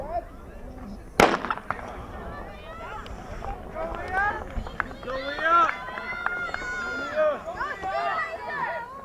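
A starter pistol fires one sharp, loud crack at the start of a high school track relay race outdoors, with an announcer's voice and crowd chatter continuing over it.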